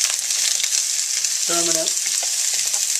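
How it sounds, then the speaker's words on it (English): Garlic and onion fry in a hot pan with a constant bright sizzle, someone speaking briefly over it partway through. "first I'm gonna fry the garlic and onion"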